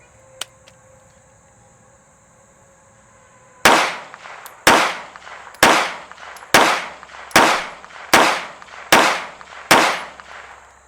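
Eight loud, evenly spaced gunshots from a Strike Industries Mass Driver ring out close by after a quiet start, each with a sharp crack and short ringing decay, then the firing stops abruptly at a stovepipe jam.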